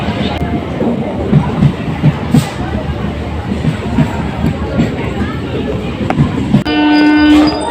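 Train pulling into a station: a steady rumble and rail clatter under crowd noise, ending in a loud sustained horn blast.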